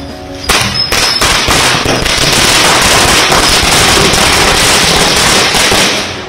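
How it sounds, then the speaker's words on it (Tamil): Firecrackers burst in a dense, continuous crackling barrage during Diwali celebrations in Mylapore, Chennai, with families setting them off together. After one sharp opening pop, the loud rapid-fire explosions run without a break to the end. "சென்னை மயிலாப்பூரில் குடும்பம் குடும்பமாக பலர் பட்டாசு வெடித்து கொண்டாட்டத்தில் ஈடுபட்டனர்."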